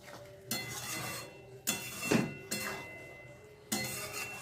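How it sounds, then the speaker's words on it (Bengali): A spoon stirs water into taro in a cooking pot, scraping and clinking against the metal in about four short, quiet strokes. "জলটাকে ভালোভাবে কচুর সাথে একবার মিশিয়ে দেব।"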